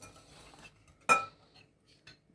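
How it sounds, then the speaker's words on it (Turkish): A spoon scrapes softly around a bowl as a cup of milk is stirred into whisked sugar and eggs for a chocolate soufflé cake, followed by one sharp clink against the side and a few faint touches. "Çırptığımız şekerle yumurtanın üzerine bir çay bardağı süt ekliyoruz. Onu da karıştırıyoruz şöyle."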